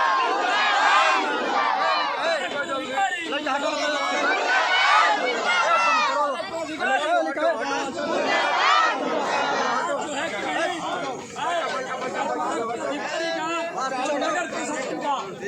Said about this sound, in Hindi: तो आप लोग मेरे साथ नारा करिए, कार्यपालक पदाधिकारी मुर्दाबाद